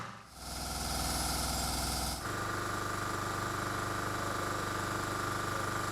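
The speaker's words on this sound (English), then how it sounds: "turn the revs up on that air pump" A diving air pump compressor engine runs loud and close on a river diamond-mining operation, its steady mechanical drone with hissing air rising as the revs climb, then holding constant with no talk.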